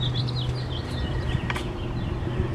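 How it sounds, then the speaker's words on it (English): Birds chirping in a city park, scattered short high calls over steady low background rumble, moderately faint. "there's a lot of birds here in this park"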